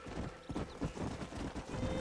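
A horse in Red Dead Redemption clip-clops along with steady, close hoofbeats, while a whinny rises over the rhythmic steps.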